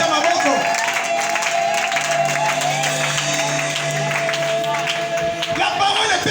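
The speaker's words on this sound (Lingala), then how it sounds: "Acclame pour Dieu." Church congregation at a Sunday service in Oyo clapping and cheering for God, a loud, dense wash of applause and voices that holds steady throughout, with a sustained tone running underneath.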